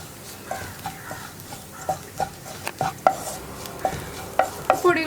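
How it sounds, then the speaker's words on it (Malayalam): Spice powders are stirred as they fry in coconut oil for an egg curry. A spoon scrapes and knocks against the pan in an irregular rhythm over a soft, steady sizzle, close up and with no voices. "1 മിനിറ്റ് ഒന്ന് ഇളക്കി കൊടുത്തിട്ടുണ്ടെങ്കിൽ പൊടികൾ കുക്കായി വന്നോളും"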